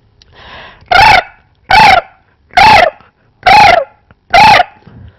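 A voice mimics the call of a kurja, or common crane, giving five loud, evenly spaced trumpeting honks with short pauses between them, close and alone.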